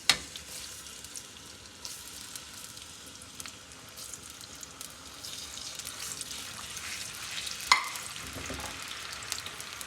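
Sliced onions sizzle in about one and a half cups of hot oil, a soft, steady crackling hiss with a few sharper pops, fairly quiet and unbroken.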